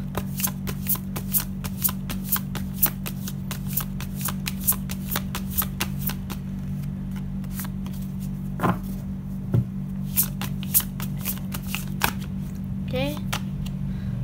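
A deck of oracle cards is shuffled by hand in a steady run of quick riffling slaps and flicks, close and crisp, continuing throughout with a few sharper snaps toward the end.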